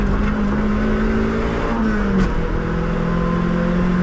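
A Toyota Celica's engine is held flat out on the Nürburgring, heard from inside the car as a loud, steady drone. The engine note shifts pitch slightly as the car accelerates.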